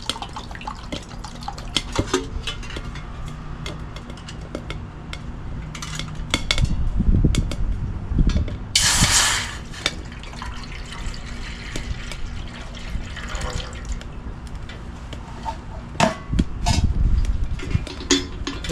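Two cups of water are poured into a pot outdoors beside a birch wood fire, giving brief splashing bursts mixed with clinks of metal cookware and scattered handling noises, with no talk.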